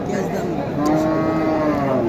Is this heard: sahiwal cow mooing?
yes